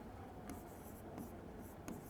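Chalk or marker writing on a board while solving a maths problem, a few soft, scratchy strokes at an unhurried pace, faint and close over steady room hiss.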